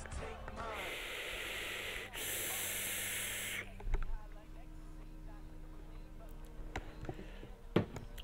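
Someone exhales a long, breathy hiss of vapor from an e-cigarette filled with strawberry-jam-on-toast flavored e-liquid. The exhale is close and lasts about three seconds, followed by quieter breathing and small handling sounds.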